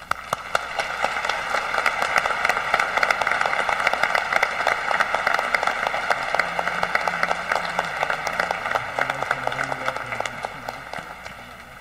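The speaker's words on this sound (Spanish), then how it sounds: "Un aplauso," Congregation applauding inside the Basilica of Guadalupe during a choral Mass, sustained loud rhythmic clapping that echoes through the church, with faint organ-like tones underneath.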